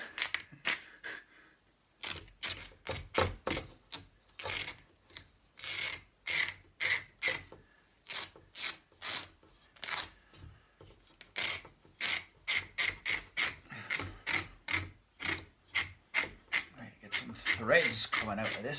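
A fabric costume neckline being frayed by picking and tearing at threads: repeated short, rasping scratches and pulls in an irregular rhythm, close and fairly loud, with brief pauses between strokes.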